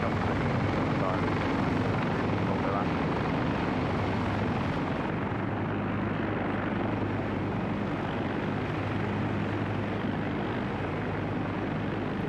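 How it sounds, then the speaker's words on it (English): Loud, steady helicopter rotor and engine drone from a military base in a video game, a continuous broadband roar through the whole stretch, with players talking over it. "Aircraft taking off right now."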